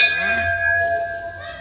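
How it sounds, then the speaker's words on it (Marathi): A metal bell at a Hanuman temple struck once during Holi celebrations, a loud ringing strike with bright overtones that decays slowly over low background noise. "पहिले घंटा वाजला"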